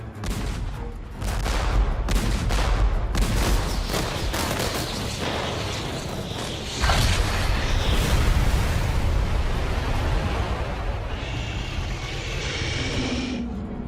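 Cannons fire at a hydra in the video game Infinity Strash: Dragon Quest The Adventure of Dai. Booming salvos come in rapid, overlapping bursts that build into a continuous barrage.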